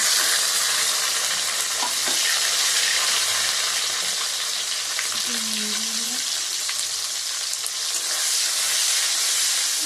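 Tomatoes frying in a hot pan give off a loud, steady sizzle that stays close and constant throughout, with a brief low murmur partway through.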